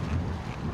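A gusting headwind on a group bicycle ride buffets the microphone in a brief, low rumbling roar of wind noise, steady and fairly loud.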